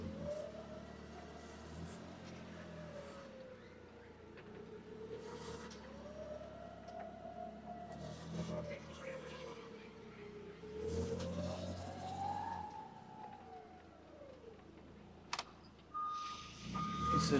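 Propane-powered Hyster S60FT 6,000 lb forklift driving a forward figure eight, its engine droning steadily with pitch rising and falling through the turns, a brief sharp click near the end.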